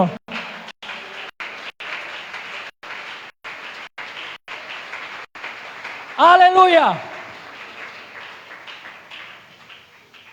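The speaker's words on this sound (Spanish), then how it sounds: "Dale un aplauso al Señor" A church congregation applauds the Lord, a broad, even wash of clapping that carries through most of the stretch, broken by a loud shouted voice from the preacher near the middle before the applause fades.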